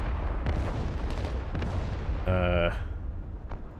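Artillery rounds in WARNO thump and boom at irregular intervals, and a harsh buzzing whoosh of a Grad rocket volley bursts out for about half a second midway before the dull impacts resume faintly.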